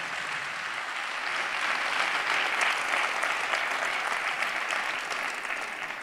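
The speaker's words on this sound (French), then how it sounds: "applaudir les 16 candidats de ma thèse en 180 secondes" Sustained applause from the audience at the Nantes final of Ma thèse en 180 secondes for the sixteen candidates, a dense, even wash of many hands clapping that holds steady throughout.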